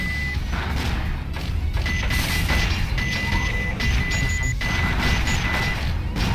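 Repeated electronic beeping from the Sonic Adventure 2 video game, a steady high tone pulsing at intervals over busy, loud game noise with crashes and rumbling effects.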